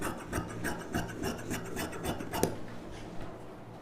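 Scissors cut through silk blouse fabric for a saree blouse sleeve with rapid, rhythmic rasping snips close up, a steady run of strokes that eases toward the end.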